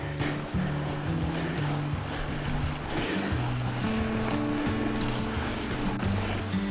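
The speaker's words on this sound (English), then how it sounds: "You can hear the falls down there, Cove Creek Falls." Cove Creek Falls in Pisgah sounds as a distant, continuous rushing wash heard from a climbing trail, blended with wind and low droning tones.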